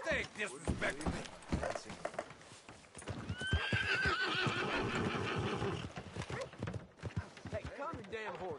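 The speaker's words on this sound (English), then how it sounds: "calm your damn horse, will you?" A horse gives a loud, drawn-out whinny amid clattering hooves and excited voices, with hoofbeats pounding before and after the neigh.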